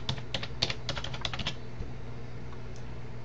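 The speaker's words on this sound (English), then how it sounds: "We're going to type in attractions there" Quick bursts of keystrokes on a computer keyboard, close and fairly quiet, clustered in the first half and trailing off into a soft hum of room noise.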